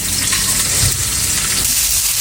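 Sliced onion sizzling steadily in hot oil in a pan, the start of an Alexandrian-style liver dish, a dense continuous frying hiss filling the short moment close up with no talking.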